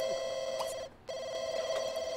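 A telephone rings in The Sims 2 with a steady electronic trill that pauses briefly, then resumes, fairly faint and with no talk over it.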